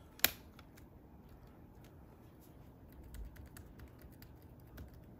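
Someone types on the keyboard of a 2012-2016 Apple Retina MacBook Pro, with one sharp click followed by a string of soft, quiet, irregular key taps in a still room.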